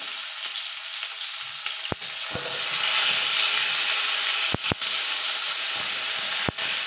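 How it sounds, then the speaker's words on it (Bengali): Eggplant slices seasoned with salt and turmeric fry in oil in a pan, giving a dense, steady sizzling hiss with a few sharp clacks of a utensil, loud and close, with no voices. "ভেজে তুলে নেবো বেগুনটা।"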